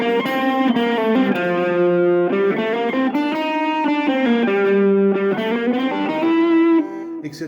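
A full rock backing track for a Rockschool grade 4 guitar study plays loud and steady, with distorted, effects-laden guitar over a band, a continuous melodic line until it cuts off near the end.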